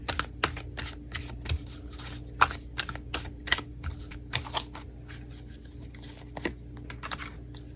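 Tarot cards being shuffled and drawn, a run of quick papery riffles and flicks in an uneven rhythm, close and fairly quiet over a low steady hum, with no voice.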